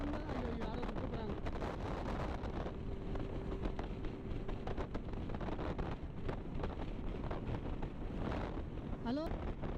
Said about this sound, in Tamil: எதிர் திசையில் காற்று மிக மிக வேகமாக அடித்துக் கொண்டிருக்கின்றது.